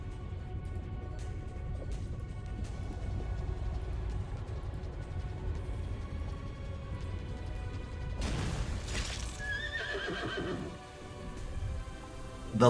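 Horse whinnying in the video game Arknights, a loud neigh rising out of a low rumbling bed of game ambience with patter like rain and faint hoof clops, alone with no talk.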